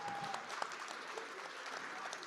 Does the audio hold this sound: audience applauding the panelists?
yes